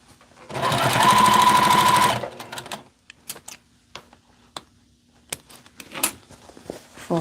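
A sewing machine stitches fabric in one steady, loud burst lasting about a second and a half, followed by scattered clicks and handling knocks as the cloth is adjusted.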